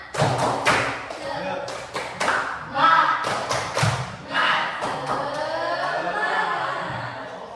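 A classroom of students performs the rhythmic 'tepuk semangat' clapping chant, sharp claps in a quick patterned rhythm mixed with voices chanting together, then laughter and loud chatter.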